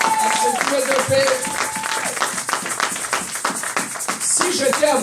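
A church congregation claps in acclamation with dense, rhythmic hand claps throughout, mixed with voices and cries of praise.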